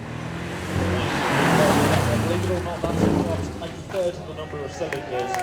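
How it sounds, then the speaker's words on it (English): A Porsche sports car with a 365-horsepower engine on a demo run at a supercar event, its engine rising and passing at moderate distance while a commentator talks over it, crowd and wind noise behind. "Let's see what our Porsche can do."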